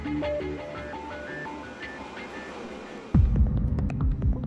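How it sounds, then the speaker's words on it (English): A laboratory vacuum chamber used for testing solar-cell materials gives off a steady throbbing hum, and a louder, deeper pulsing drone takes over near the end. "The researchers used this vacuum chamber to test materials for the process."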